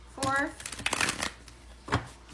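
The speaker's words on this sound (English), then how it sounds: "We're going to shuffle these cards 5 times" Tarot cards are shuffled in quick riffling bursts, a crisp flutter followed by a few shorter snaps, close and fairly loud, with a voice speaking briefly alongside.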